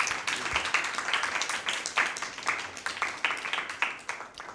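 Audience applause greets the chief guest at a Christmas Bible quiz event, a steady, moderately loud patter of many hands clapping in uneven, repeating swells without a break.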